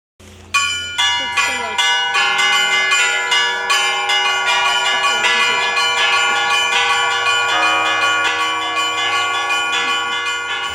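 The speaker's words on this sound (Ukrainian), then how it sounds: "Усі храми міста починають передзвін." Church bells from all the town's churches in Kobeliaky, Ukraine peal loudly during a town day celebration, many strikes ringing in a dense overlapping rhythm with long resonant tones blending together.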